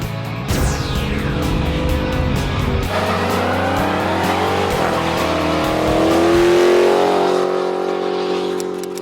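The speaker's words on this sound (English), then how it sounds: "So coming up next, the 0 to 60 run in that." A 2016 Chevy Trax with front-wheel drive accelerating hard from 0 to 60 on a snowy road, engine note rising steadily through the gears with clear shift breaks, loud and continuous from inside the car.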